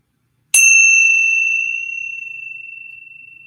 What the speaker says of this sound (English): So I'll do one bell to start and